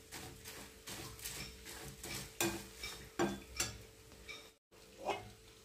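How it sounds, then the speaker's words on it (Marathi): Poha being sautéed in a pan with turmeric, chili, coriander and cumin powders, heard as a run of scraping spatula strokes and light clinks over a faint sizzle, irregular and close, with no voices. "ते छान परतून घेऊ।"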